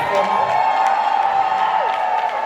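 A crowd at an awards event in Houston, Texas cheering and making noise, a steady loud roar of voices and whoops that fills the whole stretch without a break.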